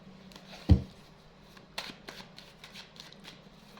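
Tarot cards are shuffled and handled close up, with one sharp snap of cards followed by a run of soft riffling and flicking sounds at a quiet level.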